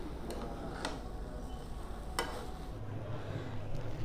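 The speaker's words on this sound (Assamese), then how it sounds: "এনেদৰে ওলট পালটকৈ মই লৰাই দিম।" Rice being stirred and turned over in a pan on medium flame while frying for khichdi: soft continuous sizzle with a few sharp scraping ticks of the spatula, steady and close.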